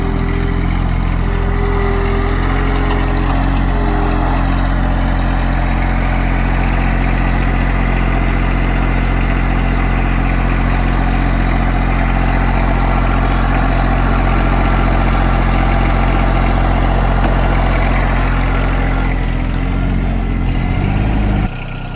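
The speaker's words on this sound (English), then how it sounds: "Everything on this little tractor works perfect." A John Deere 2305 4x4 compact tractor with loader idles steadily and loudly at close range, a constant low engine rumble with no speech.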